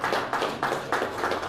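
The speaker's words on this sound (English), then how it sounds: "Keep clapping for him until he gets to this place" Audience clapping for a speaker at a journalism workshop, a short burst of steady applause with rhythmic claps, close and fairly loud, no voices over it.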